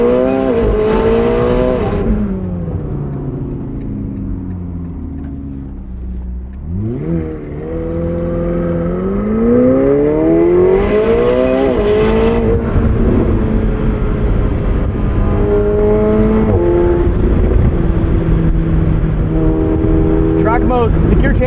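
A 2024 McLaren 750S engine rises and falls in pitch through quick, smooth gear changes while driving, loud and continuous, with a steady droning note between shifts and a voice talking over it.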